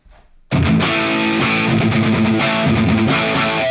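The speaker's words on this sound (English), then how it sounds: "Then we're going to add in some distortion" A distorted electric guitar played through a Valeton GP-200X multi-effects unit with a noise gate bursts in after a short quiet start with loud, dense, compressed chords and riffing.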